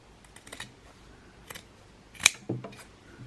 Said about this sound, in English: Now I would cut away the excess fabric.